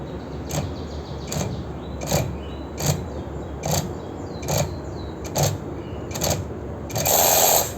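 A Keelat KRW003 long-reach brushless ratchet wrench running on a 10-cell battery, firing in about nine short, evenly spaced bursts with pauses between them, then one longer final run, close and fairly loud with no talking.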